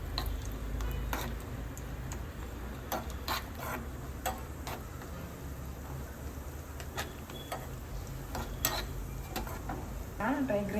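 Cashews frying in a pan are stirred with quick ticking scrapes of a utensil over a low, continuous sizzle, close and fairly quiet, with a soft background hum.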